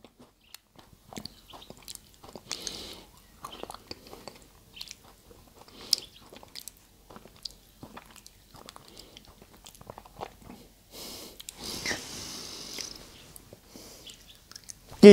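Someone eats a Dewberry cookie sandwich filled with apple-flavored cream and kiwi-apple jam, with close, quiet bites and soft crunchy chewing scattered across the stretch, getting a bit louder and denser near the end.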